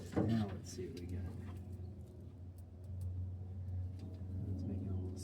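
A 1964 Pontiac Grand Prix V8, unused for five years, cranks and catches into a low, steady rumbling idle that stays constant, heard close with a voice briefly at the start.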